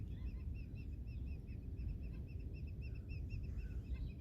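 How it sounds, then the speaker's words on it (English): Birds along a coastal trail near Culross, Fife, Scotland, calling in quick repeated chirps and short honking notes, moderately distant over a steady wind rumble. "Listen to the birds."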